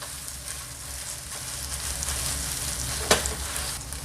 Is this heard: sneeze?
no